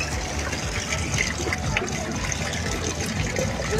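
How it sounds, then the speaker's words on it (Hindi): Water from a natural mountain spring at Aharbal in Kashmir runs steadily into a container, a continuous gushing and trickling wash that stays close and fairly loud, with faint voices mixed in. "मैं भी पानी भर लेना।"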